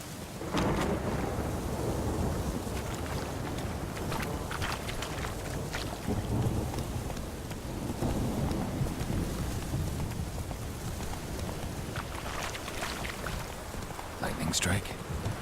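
Thunder rumbling steadily under heavy rain in The Witcher 3 video game, a dense, continuous wash of low rolling booms and hiss throughout, with game dialogue speech mixed in.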